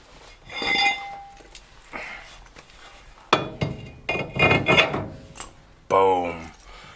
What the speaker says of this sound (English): Now, I'm going to put on the rotor, see if it doesn't hit it.